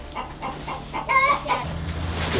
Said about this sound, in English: We have seen that this chicken is just too loud.